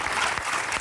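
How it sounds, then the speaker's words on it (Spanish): A crowd at a Canarian folk music parranda gives a short burst of full applause, under a second long, thick and continuous with no voices standing out. "Pues vamos a darle un aplauso, pero que se lo repartan."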